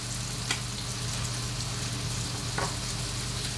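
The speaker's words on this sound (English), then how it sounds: "I'm just going to unload my riced cauliflower into that. Get a little saute going" Riced cauliflower sautéing in a hot pan, a steady dense sizzle with a couple of brief stirring clicks, close and even throughout, no talk.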